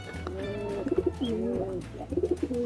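Pigeons in a loft coo close by in soft repeated rounds of throaty, bubbling calls, with a low steady background hum underneath.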